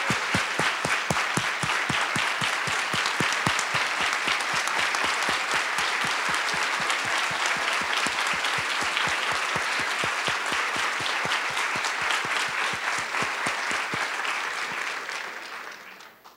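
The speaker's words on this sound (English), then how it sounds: "join me in a round of applause for Gail and Maria." Conference audience giving a long round of applause, dense steady clapping from a sizable crowd that holds for about fourteen seconds before tapering off into quiet.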